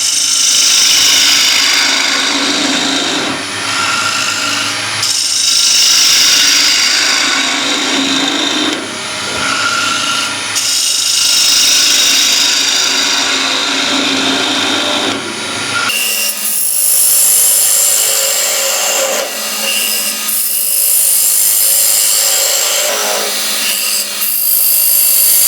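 A gouge cuts into a wooden bowl spinning on a lathe, giving a loud, continuous rough scraping and hissing that swells and eases in passes as the tool sweeps across the surface, with no speech.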